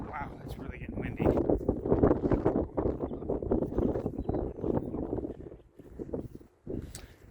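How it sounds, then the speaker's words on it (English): Wind buffets the microphone in low rumbling bursts while a person talks, rising and falling in strength. "Sorry about that wind. Wow, it's really getting windy."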